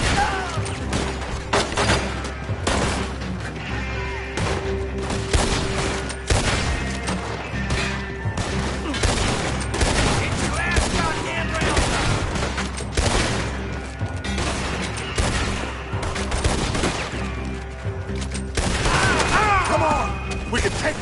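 Rapid gunfire in a shootout in the video game Red Dead Redemption 2, dense overlapping shots cracking continuously over a steady game music bed.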